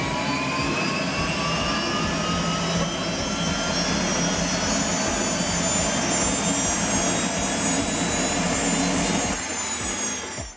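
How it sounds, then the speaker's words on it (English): The turbine engine of an MTT Y2K motorcycle spools up, a loud steady jet roar with a high whine climbing gradually in pitch, then cutting off abruptly at the end, with no talk. "Starting the Y2K required a turbine spool-up sequence, including electric starter engagement, fuel introduction, and stabilization at idle RPM."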